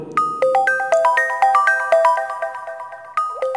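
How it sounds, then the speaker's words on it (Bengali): Phone ringtone sound effect in a Bengali detective audio drama, a loud, clear electronic melody of quick repeated beeping tones looping rhythmically, heard alone without any voices. "ঠিক তখনই বাইরে থেকে ফোন এলো"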